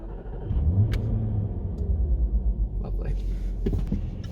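A V8 engine in a reborn Jaguar E-Type starts up and settles into a deep, rumbling idle with a few low blips, close and loud, with faint voice-like murmurs in the background.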